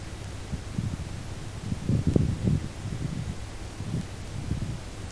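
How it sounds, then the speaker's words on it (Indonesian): Strong wind gusts buffet the microphone at a coastal shrimp pond during a harvest, low rumbling bursts that swell and fade irregularly, close and fairly loud with no talking. "angin cukup besar ya, mohon dimengerti, ini daerah pantai"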